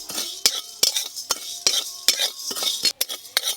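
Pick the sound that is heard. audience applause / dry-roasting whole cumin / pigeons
dry-roasting whole cumin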